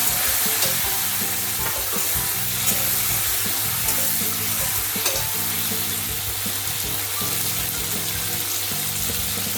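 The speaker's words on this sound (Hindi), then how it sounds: "अब हम ये टमाटो भी डाल देते हैं इसमें फ्राई करने के लिए।" Chopped tomatoes fry with four or five green chillies in a pan, giving a loud, continuous sizzle and spatter with stirring clatter over a steady tonal hum, and no voices.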